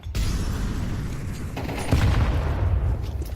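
Grenades and gunfire rumble through a competitive shooter match in a loud, dense stretch of booming blasts and crackling fire, with one heavier thud partway through.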